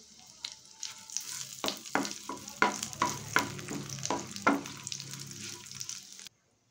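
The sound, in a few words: dried red chillies, whole cumin and bay leaves frying in oil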